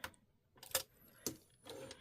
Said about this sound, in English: I'm going to slowly stitch forward and backspace